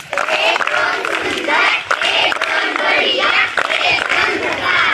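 Students at a school entry festival at a Zilla Parishad central upper primary school clap together in welcome, a dense, steady burst of applause with cheering that fills the whole stretch.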